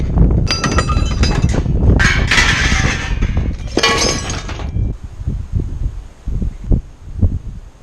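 Glass shatters and crashes at a recycling site, with loud bursts of breaking and tinkling shards, followed by scattered clinks and knocks as pieces settle, close and without speech.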